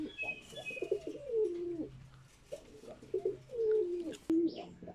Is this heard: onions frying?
no